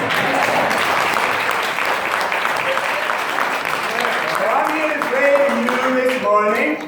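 An audience at an MLK Day event applauds loudly and steadily, dense clapping throughout with a few voices and cheers rising toward the end.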